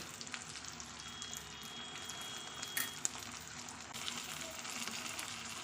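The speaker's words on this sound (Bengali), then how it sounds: "আর দিচ্ছি এই যে অল্প চিনি দিয়ে ভালো করে মশলাটাকে আবার কষিয়ে নেব" A spice paste of turmeric, chilli and cumin with sour curd and a little sugar sizzles steadily in a pan for a fish curry, a quiet, even frying hiss throughout.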